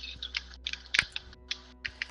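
Someone types on a computer keyboard in a quiet room, the keys clicking in irregular quick bursts with short pauses between them, close and fairly soft.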